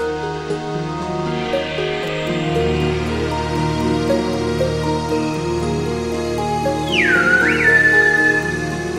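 A Silbo Gomero whistler from La Gomera in the Canary Islands gives a sharp, sliding whistle that swoops down and levels off, standing out briefly over a steady musical background.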